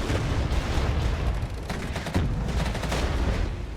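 Artillery and gunfire in the strategy game Regiments, a dense, continuous barrage of overlapping shots and booms rolling on without pause, loud and close throughout.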